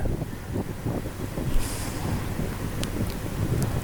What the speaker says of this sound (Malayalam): അത്യാവശ്യം നല്ല കാറ്റുണ്ട് ഇവിടെ.